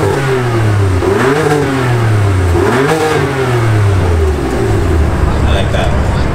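Tuned BMW engine with its exhaust valves shut, revved in repeated rising and falling sweeps, loud and close, with a lull and faint voices near the end.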